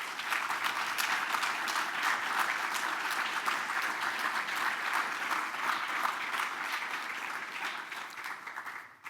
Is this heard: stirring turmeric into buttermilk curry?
no